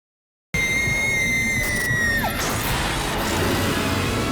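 A woman's scream cuts in sharply and holds as a long high cry, then breaks off into a crash and clatter against a noisy background.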